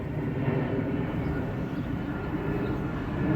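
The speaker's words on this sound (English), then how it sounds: "airplane just flew right over me." A KC-46 Pegasus tanker airplane passes overhead, a steady, continuous broadband roar that holds at an even loudness throughout, with no voices.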